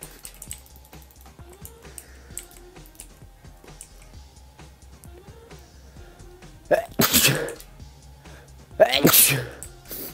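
A loud sneeze bursts out near the microphone, followed about two seconds later by a second sneeze, while quiet keyboard typing and a Minecraft prison server game play underneath.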